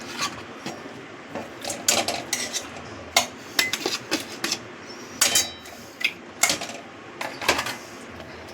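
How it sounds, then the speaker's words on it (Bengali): Marinated Bombay duck fish go into a kadai amid a string of sharp metallic clinks and taps from utensils against the pan, irregular and close, with no talk. "এবার লোটে মাছগুলো সব কড়াইতে দিয়ে দেব।"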